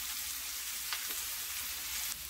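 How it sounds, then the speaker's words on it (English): Ground meat sizzles and spatters in a hot skillet, a steady close frying hiss with a few sharper pops throughout. "Listen to him sizzle, will ya?"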